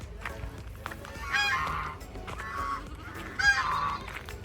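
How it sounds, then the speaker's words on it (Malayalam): A duck gives two loud, harsh honking bursts a couple of seconds apart over a low, steady background rumble, with no talk. "എടാ, ഈ താറാവ് കൊത്തോ?"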